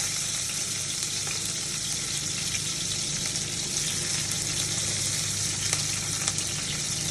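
Onions frying in a hot pan give a steady, dense sizzle that holds evenly throughout, with faint crackles and no voices.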